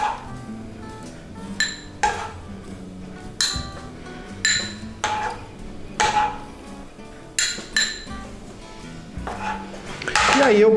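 A spoon clinks and scrapes in a bowl while layering salmon over rice for a poke bowl, with a series of sharp, close clicks and taps spaced irregularly, the loudest scrape near the end.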